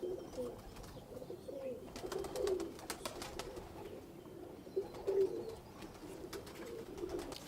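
Soft, low pigeon cooing repeats in short phrases, fairly close, with faint rustling and light background noise between calls.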